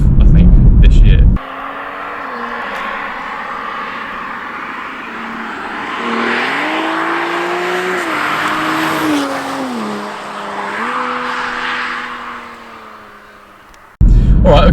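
A Toyota Supra's B58 engine drones between loud bursts at the start and end, its tone rising and falling under steady load; the pops blur into the engine noise rather than standing out. A voice is faintly present.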